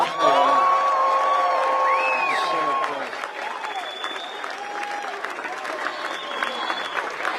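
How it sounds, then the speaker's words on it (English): Applause and cheering from a crowd at a rally in Williamsburg, Virginia, loud clapping with whoops and shouts that ease slightly after the first few seconds while a voice carries over it. "give yourselves another round of applause for being out here"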